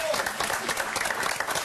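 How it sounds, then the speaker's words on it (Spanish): Applause in a TV studio, a dense burst of clapping from a small audience that lasts the whole moment, with a voice speaking over it. "Así que le vamos a aplaudir desde acá"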